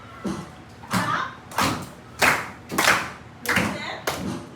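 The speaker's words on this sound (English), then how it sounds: "And then the second time you will clap along." A fifth-grade class claps along in a steady rhythm, about seven loud, sharp group claps roughly evenly spaced, close and filling the room, with no talk between them.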